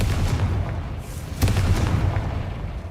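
A Confringo fire spell blasts in Hogwarts Legacy, a heavy booming explosion with rumbling low end, a sharp second burst midway, loud and close with no talk over it.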